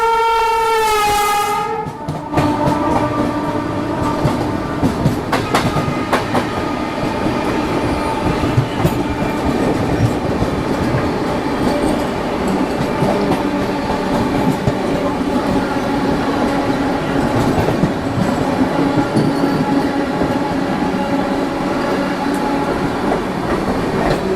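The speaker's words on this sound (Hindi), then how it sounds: "ये थी भाई साहब अपनी नेताजी एक्सप्रेस, हावड़ा से कालका जाने वाली" The Netaji Express, running from Howrah to Kalka, opens with a loud horn blast and then rushes past close by, its carriages clattering in a continuous rhythmic roar on the rails.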